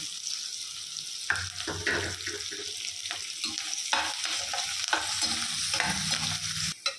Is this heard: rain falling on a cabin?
no